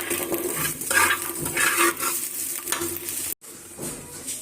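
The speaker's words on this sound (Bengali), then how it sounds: "আর এদিকে মরিচ, পেঁয়াজ আর রসুন দিয়ে নিয়েছি ভর্তা বানানোর জন্য।" Chilies, onion and garlic sizzling and being stirred in a pan for Bengali bharta, a steady close frying hiss with scraping strokes of a spatula, briefly cutting to silence near the end.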